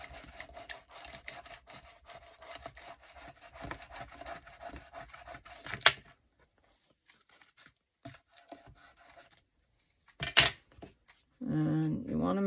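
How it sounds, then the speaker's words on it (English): Close, scratchy rubbing and rasping strokes as glued paper is burnished down by hand, with irregular pauses between the strokes and a brief voice near the end. "Burnish it down really well."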